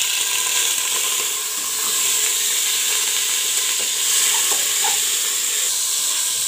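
Beef fat fries in a pot with a steady, dense sizzle and hiss, close and loud, with occasional faint pops and no voices.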